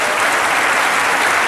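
A television studio audience at a French Christmas comedy show applauds loudly, a dense, uniform roar of clapping filling the whole short moment with no pause.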